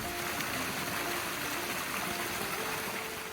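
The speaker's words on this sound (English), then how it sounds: "So we've seen the little falls." Small waterfall feeding a stream on a hiking trail, a steady, broadband rush of falling and flowing water heard close and continuous, with no voices.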